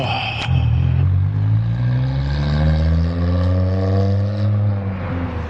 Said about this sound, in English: when you hear a car with a motor that's tuned up like that, or exhaust